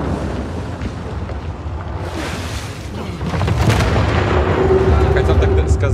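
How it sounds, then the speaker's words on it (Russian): Heavy booming cannon fire in Uncharted 4 rolls out with deep, sustained rumbles that swell louder halfway through, like a barrage from a game battle. "А пушки там заряженные, пушки стреляют."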